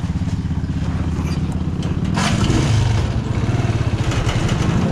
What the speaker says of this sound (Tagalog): buti na lang matik itong ating motor. Isang pindutan lang.